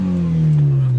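A Mitsubishi Evo engine with an ignition system fault, waste spark coils, revs briefly up close, a loud low droning tone that sags slightly in pitch over about a second.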